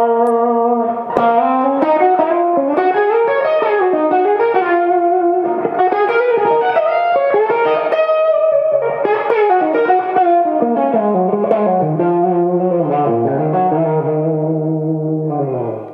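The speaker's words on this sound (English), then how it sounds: "have a very good, nice sounding reverb that you usually don't find with a higher gain type of amplifier" Distorted electric guitar through a Triple Drive Supreme high-gain amplifier, played alone in sustained chords and melodic lines, loud and steady, with a spacious reverb tail around the notes.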